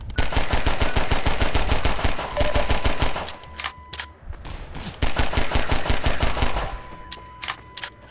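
Rapid automatic gunfire from enemies in Half-Life 2 rattles loudly in long sustained bursts, pausing briefly with scattered single shots before another heavy stream of fire.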